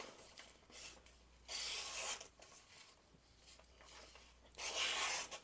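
A Kunwu S Tao folding knife cuts through paper in two short rasping strokes, each a soft, close scraping swish separated by quiet pauses.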